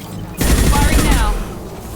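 Gunfire in the video game Mass Effect 2: a loud burst of rapid shots begins abruptly and continues for about a second, with a whine of energy in it, then fades into a quieter background.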